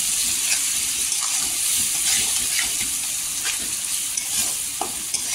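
Spice powders, garam masala, Kashmiri red chili and coriander powder, stirred into a sizzling pan for a Malvani dried fish curry, with steady frying hiss and light scraping stir strokes, no talk.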